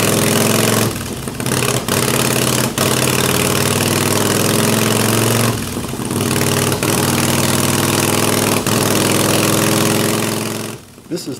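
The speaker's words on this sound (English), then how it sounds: "This is typical behavior for an engine that's jetted too lean. It will misfire and spit back or cough in the carb on easy acceleration" S&S carbureted motorcycle engine running with lean jetting, misfiring and coughing back through the carb: loud, close, steady running roar broken by several brief drops and sharp pops, with a couple of dips in level.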